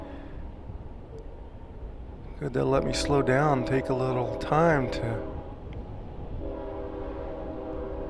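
A train passing some distance away, its horn sounding in a few long blasts over a steady rumble, while a person talks over it from inside a moving car.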